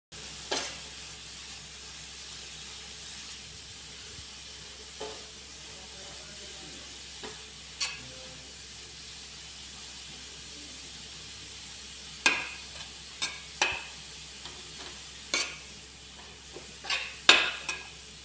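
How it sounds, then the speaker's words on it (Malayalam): Shredded cabbage with turmeric is stirred in a pan over a low, steady sizzle, with occasional sharp scrapes and clinks of the spoon against the pan, more frequent near the end. "ക്യാബേജ് ഇട്ട് കൊടുത്ത് നമുക്ക് നന്നായിട്ടൊന്ന് മിക്സ് ചെയ്യാം"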